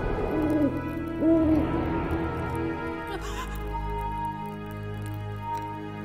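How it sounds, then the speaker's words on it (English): An owl hoots twice in the Dark Romance vampire video game, two clear calls near the start over an eerie ambient score, followed by a soft squelching sound and lingering drone. "Oh, the owl brought the medallion."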